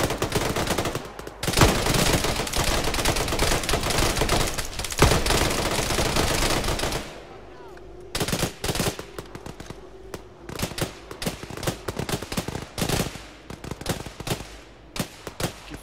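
Video game gunfire in Arma 3, a sustained barrage of rapid shots and bursts aimed at a heavily armored juggernaut, loud and dense for the first seven seconds, then thinning into scattered sharp bursts and single shots.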